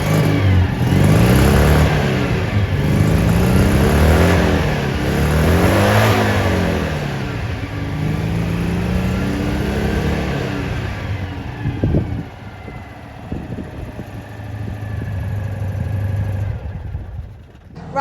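An air-cooled Citroen 2CV engine revs hard in repeated rising and falling bursts, loud and close from behind the car, then drops back toward a rougher idle with brief knocks before settling.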